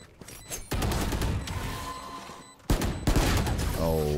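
Dense, sustained gunfire from Valorant gameplay roars in heavy overlapping bursts, loud and close, breaks off for a moment, then surges again with another barrage and a trailing ringing tone.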